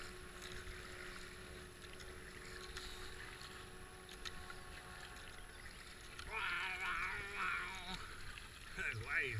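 Powerboats racing on a river during the Avon Descent give a faint, steady engine drone that grows louder toward the end as boats pass, with voices talking over it.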